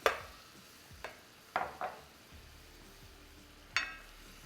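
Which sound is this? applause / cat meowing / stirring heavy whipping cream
stirring heavy whipping cream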